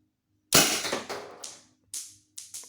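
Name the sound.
Tippmann Cronus paintball marker shot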